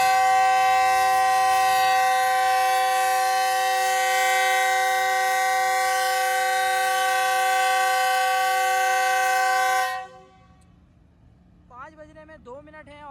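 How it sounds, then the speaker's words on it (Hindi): Karakoram Express departure whistle at Karachi station, bound for Lahore: a loud, sustained steady horn blast held for about ten seconds before cutting off, followed by a brief moment of speech nearby. "कराकरम एक्सप्रेस का डिपार्चर विसल हो गया है लाहौर के लिए कराची से"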